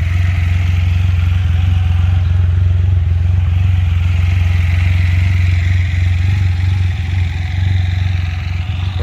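A Can-Am F3S Spyder special edition three-wheeled motorcycle idles steadily close by, its engine keeping up a loud, even, deep rumble throughout with no talking over it.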